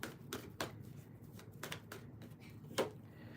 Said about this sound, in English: I'm trying to shuffle the cards for Aquarius.